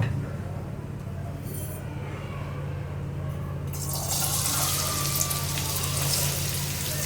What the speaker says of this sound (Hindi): कढ़ाई में तेल डालेंगे और जब तेल गर्म हो जाए तो उसमें प्याज बारीक बारीक काट के ना वो शामिल कर देंगे